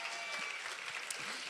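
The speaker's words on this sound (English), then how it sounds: "Don't applaud yet." Audience applause at a benefit auction, steady dense clapping from a crowd filling the room evenly and continuously throughout, with no voices breaking through the sustained noise.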